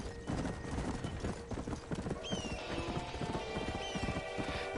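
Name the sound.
horse hooves trotting, from video game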